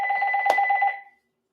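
Telephone ringing close by, a fast electronic trill with a sharp click midway, then cutting off and fading into silence.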